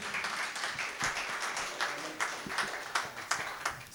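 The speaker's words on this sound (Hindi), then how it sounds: "उनके इस्तक़बाल के लिए एक मरतबा ज़ोरदार तालियाँ बजाएँ" An audience gives a chief guest a welcoming round of applause, a quiet, somewhat distant patter of many hands clapping at an uneven rhythm, with no speech over it.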